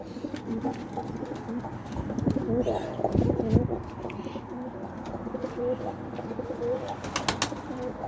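Pigeons coo softly and repeatedly through a busy outdoor backdrop during a loft flight of young birds and a blue pigeon, with faint voices and some scattered chirps nearby.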